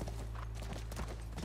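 Horse hooves clip-clop in a steady, quiet rhythm over a low, constant hum in the video game The Last of Us Part I, with no talking.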